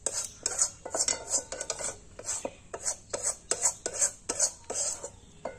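A metal spoon scrapes and taps against a pan, spreading cooked potato filling out to cool, in a run of close, irregular clinks and scrapes with short pauses between strokes.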